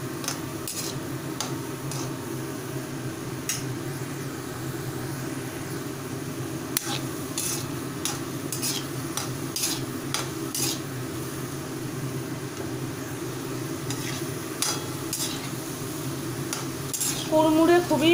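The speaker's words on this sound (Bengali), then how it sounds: "এবারে ভালোভাবে ফ্রাই করে নিচ্ছি।" Crispy snacks deep-fry in a pan, a constant close sizzle with scattered clicks and taps of utensils against the pan and louder clatter toward the end, no talking.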